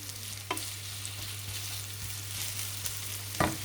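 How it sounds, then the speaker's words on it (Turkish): Onions cut in half-moon slices fry in a little oil in a pan, a low steady sizzle with a few sharp clicks and scrapes from stirring, fairly quiet and close. "Tavaya yağ koydum birazcık ve e, soğanı şu anda e, biraz pişiriyorum"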